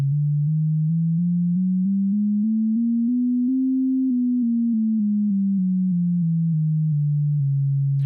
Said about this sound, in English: we're basically tuning the sine wave with semitone intervals